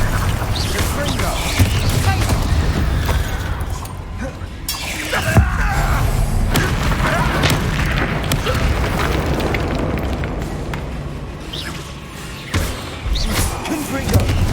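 Spell explosions from Confringo and Bombarda casting in the Hogwarts Legacy video game, a dense run of loud booms and crashes with bright shattering bursts over a continuous rumbling bed, some voice mixed in.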